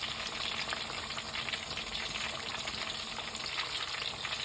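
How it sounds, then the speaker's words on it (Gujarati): Mixed vegetables for Gujarati undhiyu fry in hot oil, giving a steady, dense sizzle and crackle that stays even and fairly quiet throughout with no talk over it. "આપણા શાકભાજી તળાઈ ગયા છે. હવે આપણે એને બહાર કાઢી લઈશું."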